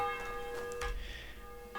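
A church bell rings in Kingdom Come Deliverance II, a single sustained, faint metallic tone with lingering harmonics and a soft thump partway through.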